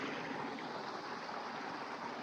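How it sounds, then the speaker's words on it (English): A small waterfall on a hike in the Kihara hills pours a steady, soft rush of water. The sound is even and continuous, a little distant, with no voices. "mini waterfall."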